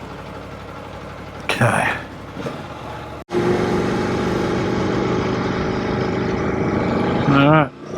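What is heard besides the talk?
Aprilia Tuono V4 1100 Factory motorcycle engine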